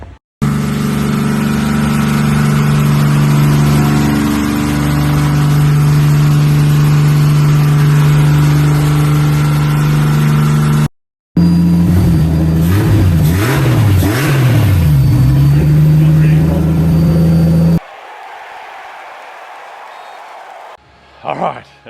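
A rebuilt RB25 engine in a Nissan S13 drift car drones loudly at a steady pitch, then revs up and down in repeated sweeping blips across several abrupt cuts, with voices in the mix.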